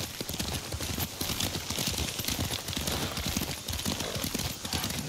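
Horse hooves clip-clop in a quick, steady galloping rhythm while riding in the video game Ghost of Tsushima, loud and continuous with a broad rushing wash behind them and no talk.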